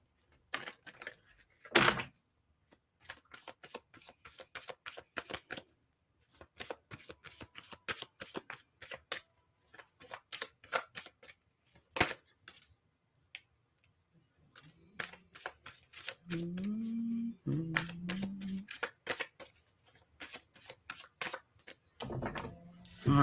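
A deck of Heal Yourself reading cards is shuffled in repeated riffling bursts and flicks, close and crisp, with pauses between runs and a low hum briefly in the background.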